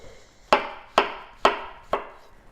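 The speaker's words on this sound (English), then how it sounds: "We just slice those into thicker slices like this." Four evenly spaced, crisp knife strokes through white mushrooms onto a cutting board, close and clear with no talking.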